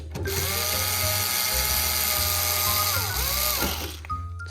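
Steady, close whine of a power drill running for several seconds while taking out screws from the panel of a Kawai CN-series digital piano, its pitch dipping briefly near the end before it stops.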